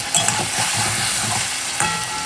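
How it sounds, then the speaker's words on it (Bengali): Fish frying in oil in a pan gives a continuous close sizzle, with a couple of brief scrapes or clinks, and no voices. "আমাদের মাছ কটা ভাজা রাখবো"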